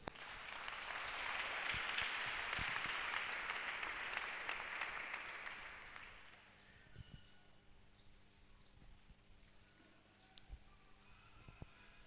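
A church congregation applauding the Lord: a broad wash of clapping that swells, holds for several seconds, then fades away to quiet room tone with a few faint knocks.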